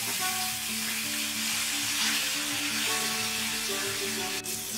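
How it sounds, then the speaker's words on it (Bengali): Spice paste of chili powder, turmeric and salt with a splash of water sautéing in a pan over low flame for a Parshe fish and brinjal curry, a steady close sizzle with stirring throughout and no talk. "সামান্য একটু জল দিয়ে মশলাটা ভালোভাবে কষিয়ে নেব"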